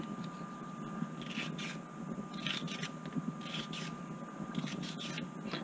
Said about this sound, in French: nous allons devoir éplucher nos carottes